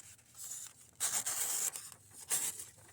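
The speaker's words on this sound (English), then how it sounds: "let's try the newsprint, which, to my surprise, this stuff cuts easier than the copy paper does" Scissors cut through thin newsprint paper in a quiet room, giving two or three short, rough swishing slices with faint rustling between them.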